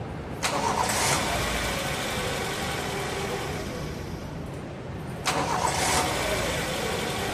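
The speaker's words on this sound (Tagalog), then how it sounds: "check ko muna yung starting nitong makina ng customer" A customer's Toyota Corolla Big Body, in for engine misfire repairs, cranks and starts twice in a row, each start followed by a steady idle; no voices.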